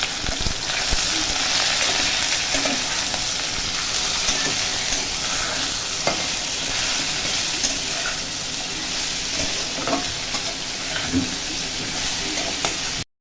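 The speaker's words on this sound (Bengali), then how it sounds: "একটু নুন দিয়ে ভাজা ভাজা করি সবজিগুলোকে।" Potatoes and ridge gourd frying in a pan with salt and turmeric, a steady close sizzle with occasional stirring clinks, continuous and fairly loud throughout without talk.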